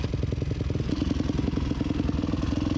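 A dirt bike idles steadily at a motocross park, its engine making a loud, close, rapid thumping putter that holds an even beat all the way through.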